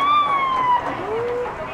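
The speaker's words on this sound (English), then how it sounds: "It's a racetrack ambulance." A racetrack ambulance siren wails and slides downward in pitch, fairly loud, amid a noisy outdoor background with voices at the Las Vegas Motor Speedway Bullring at night.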